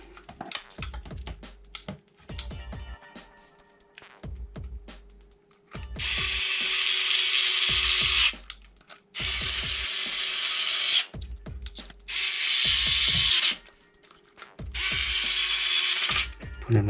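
Screws being driven into a PS5 DualSense controller shell with a power screwdriver, four loud sustained bursts of whirring broken by short pauses, after softer clicks and small handling taps close by.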